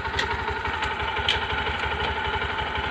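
A new motorcycle's engine runs in second gear with the rear wheel spinning, a close, steady mid-pitched mechanical drone with faint regular ticking and no talk.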